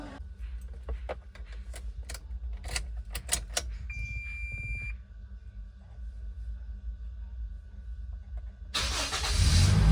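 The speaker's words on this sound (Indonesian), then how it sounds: "Kita nyalain mobil." A Toyota Innova's engine is started and runs in a steady near idle after a few clicks and clunks, with a louder rush of sound near the end.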